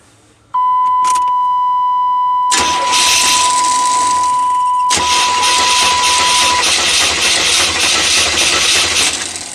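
A 5.7 TBI engine cranks steadily during a compression test, a loud continuous churning that begins after a scan-tool beep and a short gap, with a steady tone running beside it.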